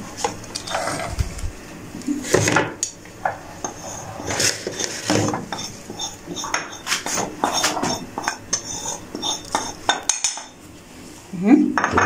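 A spoon clinks and scrapes against a bowl as ground mustard seed is added, giving sharp close metallic taps and clatters in irregular bursts, with a short pause near the end before a louder clatter.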